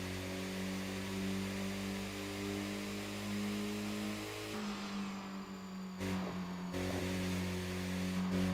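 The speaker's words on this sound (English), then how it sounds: "I love that little turbo whine" A small turbocharged kei truck cruises in a driving game, its steady engine drone carrying a thin, sustained turbo whine that shifts pitch midway through.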